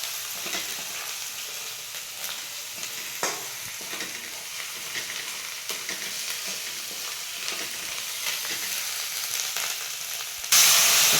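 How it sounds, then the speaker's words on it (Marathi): Chili powder sautéed in oil in a frying pan while making a spicy traditional shengolya dish, with a steady close sizzle broken by stirring scrapes and no talking. "मिरची पावडर मस्त हलवून घ्यायचं ना मस्त परतून घ्यायचं आहे"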